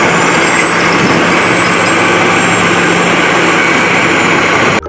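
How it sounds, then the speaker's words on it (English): A wheel loader's diesel engine runs loud and close, a steady heavy rumble with a constant high whine, holding even before cutting off abruptly at the end. "This is a wheel loader."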